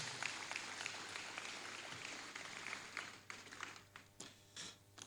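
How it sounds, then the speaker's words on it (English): Audience applause at a national youth entrepreneurship summit, a dense, steady clapping from a large crowd that fades into scattered claps near the end. "Please do give him another round of applause."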